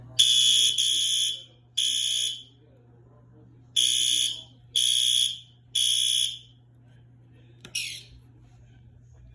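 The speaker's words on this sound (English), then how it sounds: "you can use the drill switch and that'll set off the alarm" A homemade fire alarm system, set off from a drill switch, sounds five loud electronic horn blasts in an uneven rhythm against a steady low hum, followed by one short chirp near the end.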